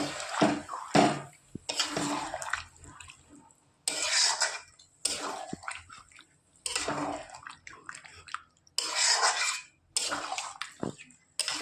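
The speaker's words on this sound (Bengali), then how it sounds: "এই যে মশলা ধোয়া যে জলটা, এটা দিয়ে দেবো।" Water from washing spices poured into a pan while cooking a Bengali taro-stolon curry, several separate splashing pours with clinks of utensils between, close and moderately loud.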